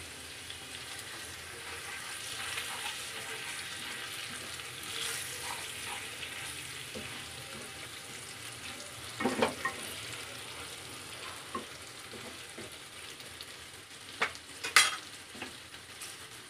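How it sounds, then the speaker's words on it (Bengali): Whole cumin, whole garam masala, kasuri methi and bay leaf temper in hot oil for a vegetarian dum aloo, giving a soft, steady sizzle with a few sharper stirring scrapes and clinks near the pan. "তো দিয়ে দিলাম ফোড়ন।"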